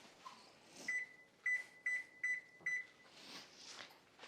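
A kitchen oven being set to preheat to 425 degrees gives a series of short, clear electronic beeps, four or five evenly spaced tones close by, with quiet room noise around them.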